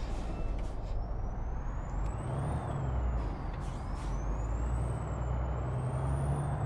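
A big rig truck in American Truck Simulator rumbles loudly and steadily at close range as its engine pitch rises and falls, with a high air-brake whine running through.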